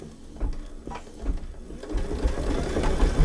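A Brother embroidery machine runs a triple stitch around the seam of a fabric coaster, a close rapid mechanical whirring and needle chatter that grows a little louder and busier toward the end.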